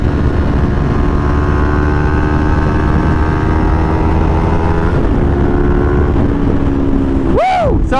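A 300 motorcycle running steadily while being ridden, its engine droning loud and close with wind rush over it, and a brief rising-falling whine near the end.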